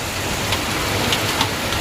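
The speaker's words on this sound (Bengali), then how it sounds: "বাইরে পড়ছে বৃষ্টি আই থিঙ্ক সাউন্ড দেখে বুঝতে পারছো" Steady rain falls outside, a dense, even hiss of drops pattering on surfaces that holds at a constant level for the whole moment with no voices.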